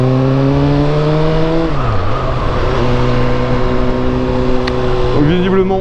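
Steady, loud engine drone of a car driving along the road toward a bridge, with the pitch dipping and rising as the driver shifts gears, continuous throughout with faint road noise underneath.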